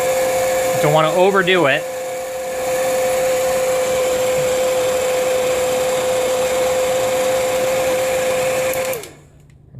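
Hot air blower heating the plastic of a Yamaha RAV283 remote control button, a steady loud whir with a high whine running for about nine seconds before cutting off, under brief talk near the start.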